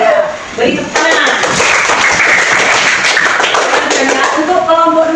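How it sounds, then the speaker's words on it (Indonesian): Students in an Islamic religious education class give a round of applause, loud uneven clapping with taps and thuds lasting several seconds, mixed with voices talking over it. "Beri tepuk tangan."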